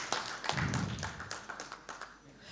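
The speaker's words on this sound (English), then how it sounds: "A big round of applause for sir." An audience at a tax conclave session applauds a guest being welcomed, a round of clapping with distinct sharp claps and some thuds near the start, fading into scattered claps toward the end.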